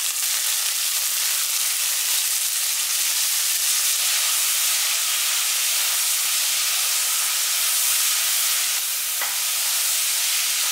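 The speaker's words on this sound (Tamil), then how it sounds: "இதில் பாதி அளவுக்கு எடுத்து எண்ணெயில் போட்டு வதக்கிக்கலாம்" A continuous loud, bright sizzle of onions frying in hot oil, steady throughout with a brief clatter near the end.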